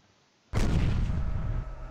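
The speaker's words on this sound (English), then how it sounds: "Also our artillery have new target." Artillery fire in the strategy video game X-Point: one sudden loud blast that rolls on as a sustained rumbling barrage, with no talk over it.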